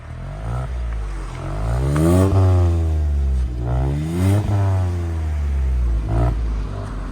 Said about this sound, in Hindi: एक बार इसके ना एग्जॉस्ट साउंड दिखाता हूँ मैं एक बार, ये देखो।